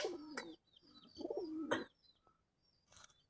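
A pigeon coos nearby in two soft, rolling phrases separated by a short pause, with faint chirps and quiet gaps between.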